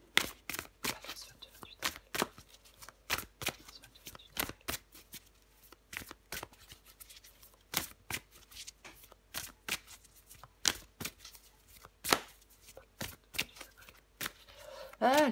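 Tarot cards shuffled and drawn for a Libra weekly horoscope reading, a steady run of crisp riffling snaps and slaps close up, repeating every fraction of a second for the whole stretch with no talk.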